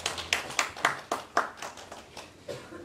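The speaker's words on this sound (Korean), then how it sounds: "하나님 축복의 박수 하시겠습니다." Congregation clapping in a church, a small group giving a short, fairly soft round of claps in a loose rhythm of separate strikes that tapers off after a few seconds.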